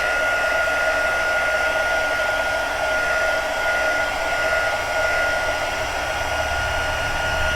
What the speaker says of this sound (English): I'm just moving the gun back and forwards over this, and eventually, not eventually, but in a second or two really, it will start to melt